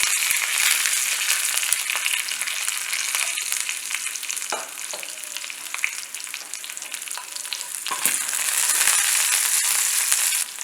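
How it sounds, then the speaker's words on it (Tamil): Cut raw mango pieces dropped into hot mustard seed and curry leaf tempering, a loud, dense, continuous sizzle and crackle close up, with a few stirring scrapes and no talk. "ஒரு மாங்காவை கட் பண்ணி வச்சு அதை சேர்த்துறேன்"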